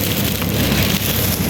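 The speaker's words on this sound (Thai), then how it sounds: "ฝนตก" Rain falls steadily, a loud, dense, even hiss of drops hitting surfaces, close and continuous with no voices.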